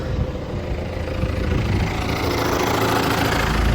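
A tractor engine idles without added throttle while an NSh-32 hydraulic pump is tested, a loud close steady rumbling drone that holds evenly throughout with no speech.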